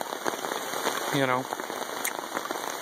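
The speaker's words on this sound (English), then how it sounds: "it's raining pretty good" Rain falls steadily on a tarp canopy at a creek campsite in Southeast Missouri, a constant patter with occasional louder drops, while a person talks briefly close by.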